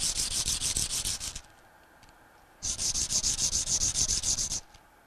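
A pump impeller key for a Bell & Gossett Series 80 is rubbed clean of burrs, two bursts of rapid, rhythmic scraping strokes, close and loud, separated by a short pause.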